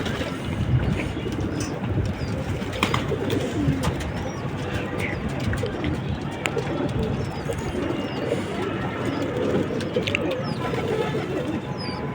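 Pigeons gathering to feed after being called, soft cooing and wing flutters amid steady wind noise outdoors, birds calling intermittently at close to moderate range.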